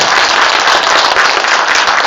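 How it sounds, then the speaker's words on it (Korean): An audience at a Democratic Party members' training lecture bursts into dense, steady applause, loud and continuous throughout with no speech over it. "이런 때는 박수를 쳐야 돼요"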